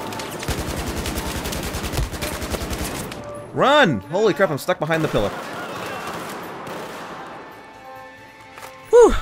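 Rapid automatic gunfire in Battlefield 4, shot through a wall inside a prison, crackles in a loud, fast burst of sharp reports, then gives way to a few heavier booms and a late single blast, with excited players talking over it.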